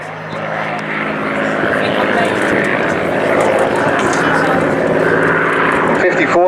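A vintage propeller aircraft of the Battle of Britain Memorial Flight roars steadily overhead at an airshow, its engine drone loud and continuous throughout, with a voice talking over it.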